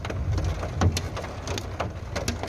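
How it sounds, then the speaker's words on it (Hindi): Heavy rain driven by strong winds, with hail mixed in, patters and cracks on surfaces nearby in a dense, irregular stream of sharp hits over a steady low rumble. "तेज हवाओं के साथ ये बारिश हुई और जमकर बारिश हुई।"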